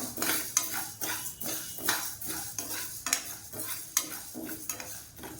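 Urad dal roasting in a pan while being stirred, with repeated scraping and metallic clinks of a spoon against the pan over a light sizzle, close and steady, without any speech.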